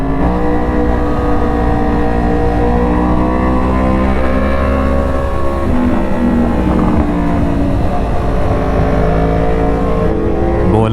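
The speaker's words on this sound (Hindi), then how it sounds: "जॉनी और पीर साहब आर ऑन अ ZX10 और अली अजीज़ साहब इज़ ऑन अ बूसा" Sport motorcycles, a Kawasaki ZX10 and a Suzuki Hayabusa, drone loudly and steadily with engine revs rising and falling, a continuous close motor roar mixed with wind rush throughout.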